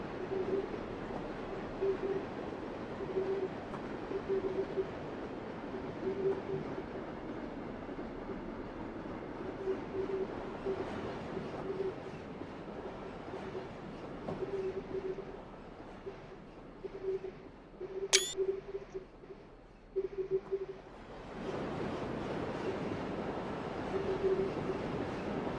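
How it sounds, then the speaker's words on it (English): Trains running on Donner Pass in Train Simulator 2015, a low steady rolling rumble with faint periodic clanks, heard at a distance and fairly quiet, briefly broken by a sharp chirp before the rumble thins and resumes. "Got some more trains coming the other way"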